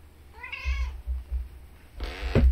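A skittish pet cat gives a short, clear meow near the microphone, followed by soft rustling and bumps.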